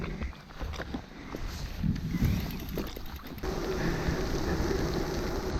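Steady, dense rain hisses and patters on surfaces nearby during a long-distance bike ride, growing heavier and more constant partway through, with no voices.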